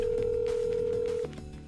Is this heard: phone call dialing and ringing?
yes